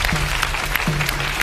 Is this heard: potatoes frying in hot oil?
no